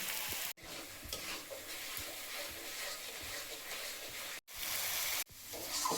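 A paste of ginger, garlic, tomato and turmeric fries in hot oil with a steady, close sizzle and stirring, broken by a few brief silent gaps.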